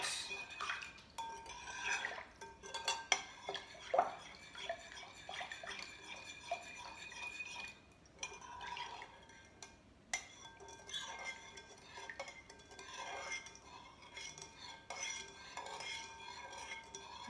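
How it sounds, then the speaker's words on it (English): A spoon stirs yeast into water in a bowl for pizza dough, giving light clinking and scraping taps against the sides that come and go irregularly, close and fairly quiet, with no voices. "I'm just gonna stir this until the yeast is about to melt."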